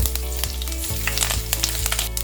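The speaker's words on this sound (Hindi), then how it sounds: "अब डाल देंगे थोड़े करी पत्ते, लाल मिर्च।" Curry leaves and red chillies crackle and sizzle in hot oil for a tempering, a steady dense frying hiss with small pops throughout, close up and fairly loud.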